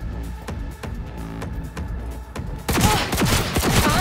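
In the Cyberpunk 2077 video game, a Malorian Arms 3516 pistol fires. A steady pulsing rhythm gives way to a sudden, loud burst of rapid gunfire that carries on to the end, with no speech.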